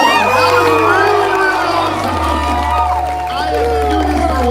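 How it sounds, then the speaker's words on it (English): A large crowd at a convention's closing ceremony cheers and shouts loudly, sustained whooping and yelling filling the hall throughout, with some voices rising above the roar. "I want you guys to cheer for yourselves, because that was awesome."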